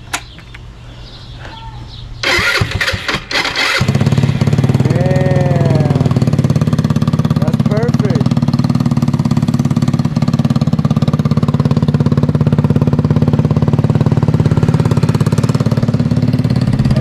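A Honda Ruckus scooter with a GY6 engine cranks a few times, catches and settles into a steady, loud idle that keeps running close by, with birds faintly audible early on.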